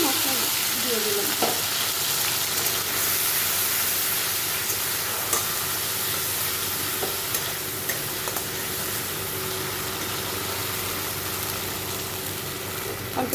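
Bay leaf, ginger and cumin paste fry in hot oil in a wok, giving a continuous close sizzle with light hissing and a few soft clinks of stirring.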